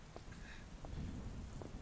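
Steady rain falls in a quiet, low hiss with soft scattered drops, faint and continuous with no talking.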